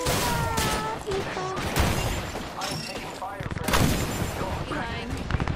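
Rapid bursts of gunfire and explosions from the video game Apex Legends, dense and continuous, with players talking over the shooting.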